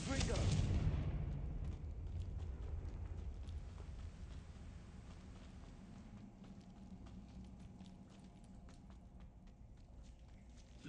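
The Confringo explosion spell in a Wizarding World video game erupts in a loud, booming burst at the start, then fades into a lingering rumble with scattered crackles.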